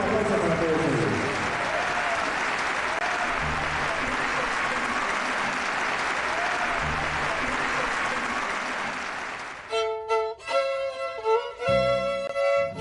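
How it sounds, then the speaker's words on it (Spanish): Audience applause for mariachis at a traditional mariachi gathering, a long steady roar of clapping that fades out, then a speaking voice takes over near the end. "Fuerte el aplauso para todos los mariachis presentes en este octavo encuentro de mariachi tradicional."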